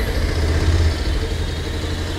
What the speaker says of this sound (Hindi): पहले बाइक को कर लेते हैं स्टार्ट,